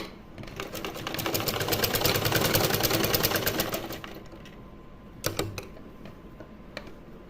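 A sewing machine stitches net fabric for a small deity outfit, a loud steady mechanical whir of rapid needle strokes that swells and fades over four seconds, followed by a couple of brief short bursts.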